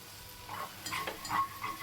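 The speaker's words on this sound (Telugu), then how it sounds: "గిన్నెని కూడా మనం జాగ్రత్తగా ఇలా గీగుతూ వేయించుకోవాలి" Soya chunk keema fries in a pan while a spoon scrapes the bottom, soft close sizzling under several short scraping strokes, no voices.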